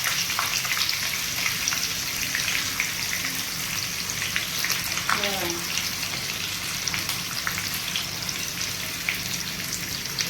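Green chillies fry in hot oil with a constant close sizzle and scattered crackling pops, a brief scrape of stirring midway, no talking.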